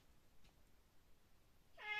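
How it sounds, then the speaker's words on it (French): A cat gives a single short meow close by at the very end, after a stretch of near silence with only faint room noise. "j'ai le chat qui revient"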